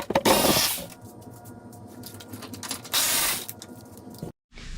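A ratchet backs out the intercooler cage screws on a Porsche 911 991 Carrera, producing close mechanical clicking runs broken by two louder bursts and a brief gap near the end, with no speech.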